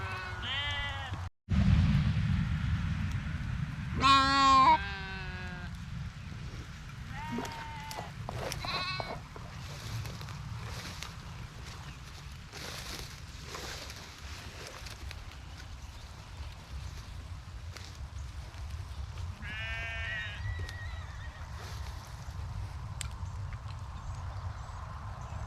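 Sheep in a farm flock bleat in spring, with a few wavering calls early on and another later, heard at moderate distance over a steady wash of outdoor noise.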